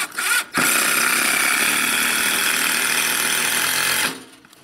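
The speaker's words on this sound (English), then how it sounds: "I got some non-self-tapping screws. I don't know how well they go in here." A power driver runs non-self-tapping screws into a wooden rafter inside a small off-grid shed, giving one loud, steady whirring grind that lasts about three and a half seconds before spinning down.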